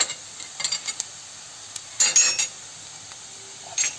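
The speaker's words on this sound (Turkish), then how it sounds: "Şöyle kokusu çıkıncaya kadar salçamı da kavuruyorum" Onions and tomato paste sautéing in a pan for a purslane and chickpea salad, with a faint steady sizzle broken by a few scraping stirs and one louder burst of frying near the middle.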